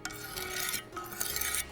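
Steady back-and-forth rasping of a kitchen knife stroked across a Wicked Edge precision sharpener's stones, several close strokes in a quick rhythm with brief pauses, no voices.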